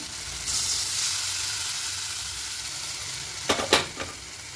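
Boiled chana dal going into a hot pan for a vegetarian coconut dal, a steady sizzle and hiss followed near the end by a few quick utensil clatters.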